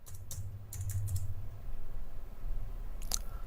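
Someone types quickly on a computer keyboard, a close run of soft key clicks over a low background hum, ending with a couple of sharper taps.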